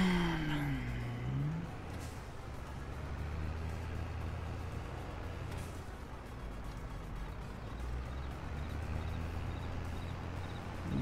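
A tractor drifts in a farming video game, its engine a steady, quiet low drone with a brief rising whine at the start and no talking.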